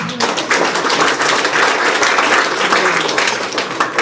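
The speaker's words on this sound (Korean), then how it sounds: "열심히 강연해 주신 우리 윤철호 박사님께 고맙다는 감사의 박수로 부탁드리겠습니다." Sustained, dense audience applause following a lecture on nuclear power and the Japanese nuclear accident, steady and loud throughout with no talk over it.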